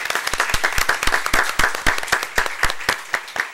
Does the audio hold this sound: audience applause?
yes